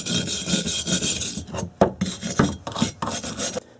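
A rusty metal surface is rubbed with a rasping scrub in fast back-and-forth strokes, close and fairly loud, breaking into shorter choppy passes before it stops.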